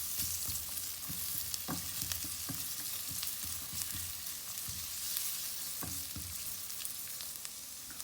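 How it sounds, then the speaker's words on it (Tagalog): Onion sautés in a hot pot as the base for salmon sinigang, with a constant close sizzle broken by scattered knocks and scrapes of stirring, and no voices. "Hulog na po natin ang sibuyas."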